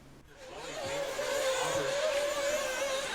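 Off-road RC buggies race in an A main at a Lake Superior RC club event, with a rising, high whining motor buzz that builds and holds steady, fairly close.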